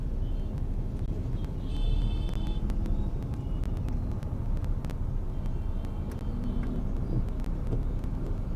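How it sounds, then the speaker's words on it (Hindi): Street traffic in Raipur during a lockdown gives a steady, close engine rumble with wind buffeting as a blood bank vehicle passes alongside. The rumble swells briefly before settling back. "बालाजी ब्लड बैंक की गाड़ी हमारे बगल से गुजरते हुई।"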